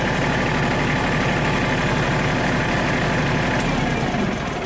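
A Kubota tractor engine idles steadily nearby, a continuous low diesel rumble with constant vibration, fresh from key valve calibration after a costly dealer repair, dipping slightly at the very end.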